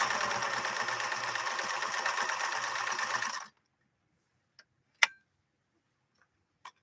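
A Viking 21E sewing machine, once owned by Princess Diana, stitches decorative patterns with a steady, fast mechanical whir for several seconds. It then stops abruptly, followed by quiet and a few sharp isolated clicks.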